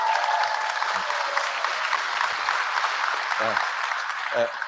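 Sustained audience applause at a university graduation ceremony, honouring the Students' Union president; dense, steady clapping fills the whole stretch with a few low murmurs and vocal sounds rising through it.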